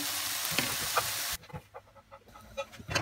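Vegetables for ratatouille tipped into a cocotte over very low heat, a dense sizzling rush that breaks off abruptly, followed by scattered knocks and light clatter of the pot and lid.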